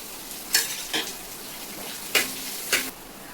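Onions and curry leaves fry with chili in a hot pan. Four short, bright sizzling bursts flare up as ingredients hit the oil and are stirred, with a quieter crackle between them.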